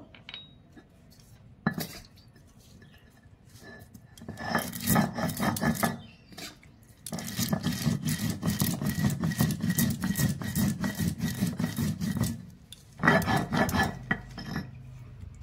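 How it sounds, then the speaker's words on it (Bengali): Cumin, dried chilli and mustard seeds crushed on a traditional grinding stone, rhythmic rough rubbing and grinding strokes in bursts, loud and close, with pauses between sessions. "তারপর আমি শুকনো লঙ্কা দিলাম, আর একটু সরষে দিয়ে আমি এটা শিলে বেটে নেব।"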